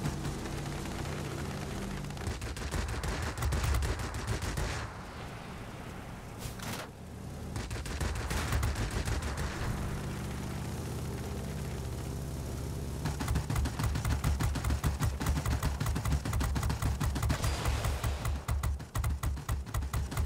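Sustained machine gun fire from a rear gunner in a video game, dense rapid bursts that run almost nonstop at high level and swell louder toward the end, with no talking.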